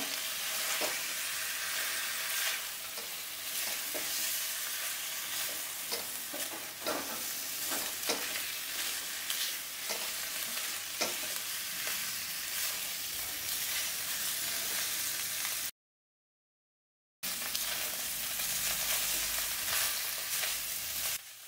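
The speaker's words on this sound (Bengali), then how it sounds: "মশলাটাকে বেশ কিছুক্ষণ কষিয়ে তেল ছেড়ে আসলে দিয়ে দেব ভেজে রাখা সবজিগুলো" Fried vegetables stirred into a spice paste with oil in a pan for Bengali dudh shukto, a dense close sizzle with frequent scraping stirs, broken by a short gap of silence before resuming.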